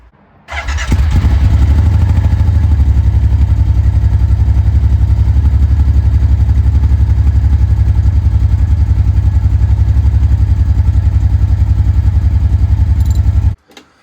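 A loud, raspy exhaust from a 2022 Kawasaki Teryx4 800 UTV with catalytic converters removed and the stock tip baffle cut out drones at a steady idle for about twelve seconds, deep and rumbling, then cuts off abruptly.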